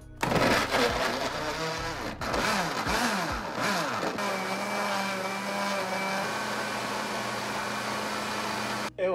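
A blender whirs loudly and steadily, mixing carrot cake batter with oil. The motor grinds hard at first and then settles into a continuous drone with no talking.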